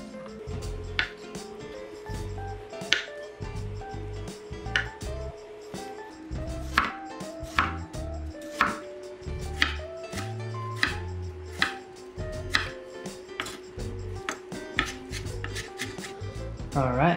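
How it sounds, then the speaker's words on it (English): Steady knife chopping of vegetables on a cutting board, sharp close taps in an irregular rhythm, with occasional faint rubbing and clatter between strokes. "All right, back to chopping."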